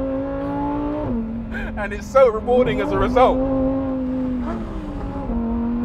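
A Lamborghini Huracan STO engine holds a steady loud drone and shifts up through the gears, its pitch stepping as each gear changes, while someone talks over it from inside the cabin.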